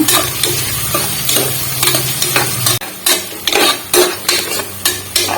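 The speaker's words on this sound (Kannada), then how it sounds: "ಉಳ್ಳಾಗಡ್ಡೆ ಹಾಕೊಳ್ಳೋಣ ಹಸಿ ವಾಸನೆ ಹೋಗೋವರೆಗೂ ಚೆನ್ನಾಗಿ ಫ್ರೈ ಮಾಡ್ಕೊಳ್ಳೋಣ" Onions fry in hot oil for masala rice, a steady close sizzle broken by repeated scraping strokes of a spatula stirring the pan, with a brief pause near the middle.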